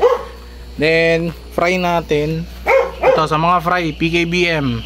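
A dog barks and yips repeatedly in short bursts close by, mixed with a person speaking in Filipino during a home fish sorting session.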